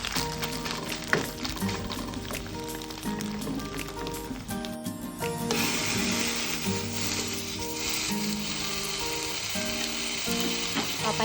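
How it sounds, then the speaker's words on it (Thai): Bacon sizzles steadily in a hot pan, a continuous crackling hiss that stays fairly loud and grows a little denser in the second half. "ก็เอาเบคอนมาย่างให้สุกนะคะ"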